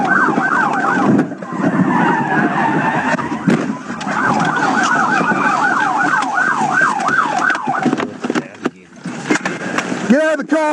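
Police car siren wailing loud and close, its rising and falling sweeps repeating through a played pursuit, mixed with car noise and shouting voices, ending in a fast yelp.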